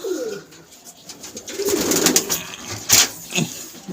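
Pigeons, including females, coo softly in a breeding cage in a low, rolling rhythm, with a few sharper bird calls and rustles around them, nearby and without any talking.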